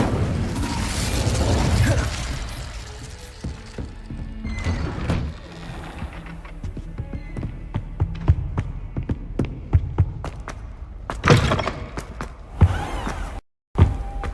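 Fire spells Confringo and Incendio go off in Hogwarts Legacy as a string of loud whooshing bursts and booming blasts. Crackling impacts and mechanical clatter follow, with the biggest bursts near the start and late on, and no voices heard.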